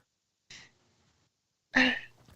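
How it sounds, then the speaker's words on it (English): A short cough sounds up close, then a louder, harsher cough follows after a pause, with a quick sharp sound at the end. "Hold on. Got a cough."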